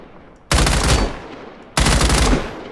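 Two loud bursts of machine gun fire in the shooter game Badlanders, each a dense rattling volley lasting roughly a second and fading, separated by a brief pause.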